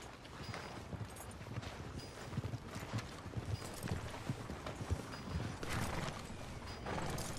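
Horse hooves clip-clop at a steady walking pace in the video game Red Dead Redemption 2, with faint creaks and rattling gear beneath a soft ambient background.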